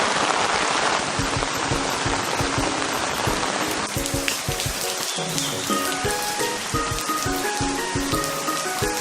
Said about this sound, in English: It's raining, but the show must go on.